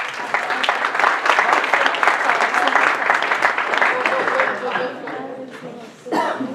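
Church congregation applauding during a Portuguese-language worship service, loud sustained clapping from a large crowd that thins out toward the end, with a few scattered claps and a brief voice at the close.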